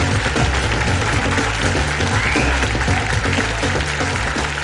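Audience at an awards ceremony applauding to welcome a presenter, a member of parliament: dense, continuous, loud clapping from a crowd, steady throughout with no pauses.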